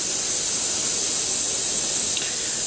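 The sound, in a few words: airbrush spraying a light mist of top coat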